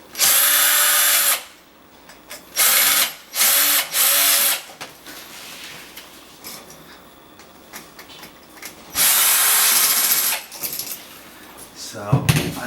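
A cordless power drill unscrews the wire terminal screws on a 3-way dimmer switch in several loud, close whirring bursts of varying length, separated by quieter handling noise.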